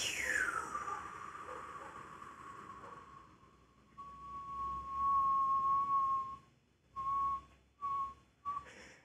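A person whistles a single sustained tone, starting with a breathy upward slide, then holding a steady clear note before breaking into three short separate toots at the end, close and alone.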